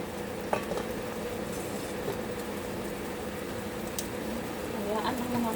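Marinated meat frying in a pan gives a steady, continuous sizzle with soft crackles and an occasional clink, heard at close range throughout.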